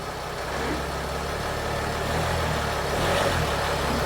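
Mercedes Sprinter van engine idling steadily after a transmission replacement, with a close, constant low rumble and broadband hum and no speech.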